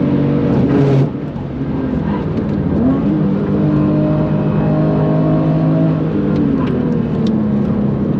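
Porsche 996 GT3 MR race car lapping the Nürburgring, its engine droning loud and close throughout, with pitch climbing and dropping through gear changes.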